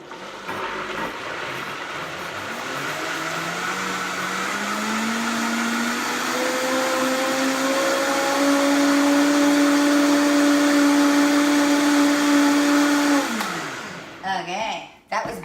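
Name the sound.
electric blender whipping eggs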